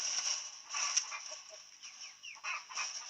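A pair of red-cheeked pheasants gives short, scratchy clucks and chirps over a steady high hiss, the calls coming in irregular bursts at moderate distance with no talking.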